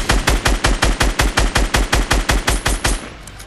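Rapid automatic gunfire from the video game Fortnite: Battle Royale, a loud, even burst of about fifteen shots at steady rhythm, ending abruptly before a short tail.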